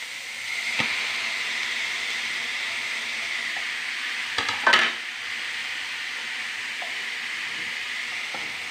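Banana flower and horse gram stir-fry in a pan, a steady soft sizzle with occasional scrapes and one louder clatter of stirring, close by with no talk.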